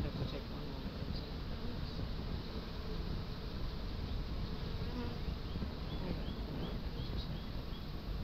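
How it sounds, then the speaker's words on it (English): Bees from a nucleus colony buzz densely around an open beehive full of brood and drones, a loud, continuous close swarm hum that goes on unbroken throughout. "Ton of bees."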